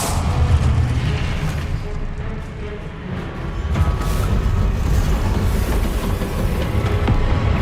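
Continuous booming blasts and rumbling explosions from a Confringo fire spell in the Hogwarts Legacy video game, loud and dense throughout with no clear pauses.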